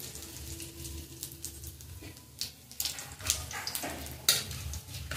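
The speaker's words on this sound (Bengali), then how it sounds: "তেল গরম হয়ে গেছে, ফোড়ন দেবো একটা শুকনো লঙ্কা, আর দেবো বেশ কিছুটা কালো জিরে।" One dried chilli and a good pinch of nigella seeds go into hot oil in a pan, giving a soft close sizzle with light stirring scrapes and small crackles.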